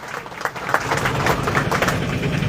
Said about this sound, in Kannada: ಜೋರಾಗಿ ಚಪ್ಪಾಳೆ ಹೊಡಿ ಅವ್ರಿಗೂ.